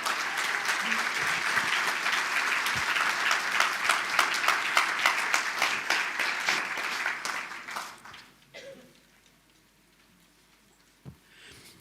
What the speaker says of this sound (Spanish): Señor, denle un aplauso.